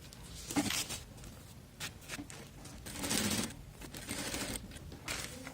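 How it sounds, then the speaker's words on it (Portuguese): A sewing machine stitching quilting fabric along a marked line for a twisted log cabin quilt block, quiet bursts of rapid mechanical chatter with short pauses, close but soft. "agora eu já posso ir pra máquina e costurar exatamente em cima dessa minha linha 1"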